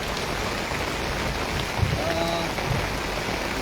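A constant wash of heavy village rainfall, loud and close, with a few faint thumps and brief tonal sounds surfacing faintly in the middle.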